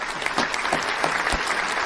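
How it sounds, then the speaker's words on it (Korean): Applause from an audience, a continuous wash of many hands clapping at steady loudness through a short stretch, with no voices standing out. "그동안의 노력과 성공한 삶에 대해서 큰 박수로 정말 축하드리겠습니다"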